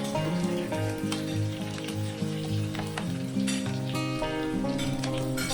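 Garlic fries in a pan beside browned pork belly, giving a constant crackling sizzle under background music with a clear melody.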